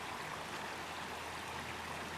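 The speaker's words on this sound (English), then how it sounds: "listening to the water" A mountain stream in Graubünden, Switzerland, flows steadily in a soft, continuous rush of water, faint and even throughout with no voices.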